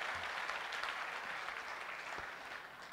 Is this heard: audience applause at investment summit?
yes